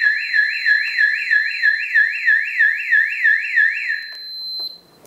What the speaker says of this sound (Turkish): Alarm sustur ve buzzer sustur yaparak panelimizi ve sirenimizi susturuyoruz